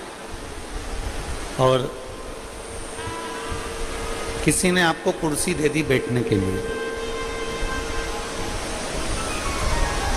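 Steady rain hisses across the whole stretch at an outdoor Shiv Mahapuran religious discourse, a constant broadband wash beneath a man's amplified preaching in Hindi.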